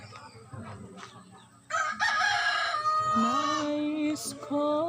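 A rooster crows loudly and close by, one long drawn-out call that rises and then holds, with softer clucking and faint background noise before it.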